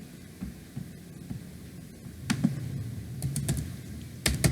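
Someone types a file name on a computer keyboard, with sparse, irregular key clicks over a low hum that grow into quicker, sharper taps toward the end.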